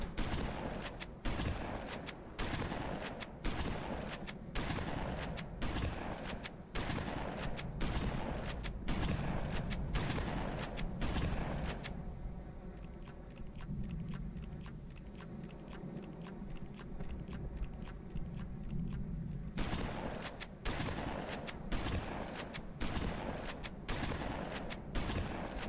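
Sustained gunfire in Halo 2, a long run of evenly spaced rapid shots, loud and close, easing into a quieter ringing stretch midway before the steady firing resumes.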